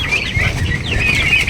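A hen clucks inside a chicken coop with chicks, close and fairly loud, giving a string of murmuring clucks over a low background hum with no talking.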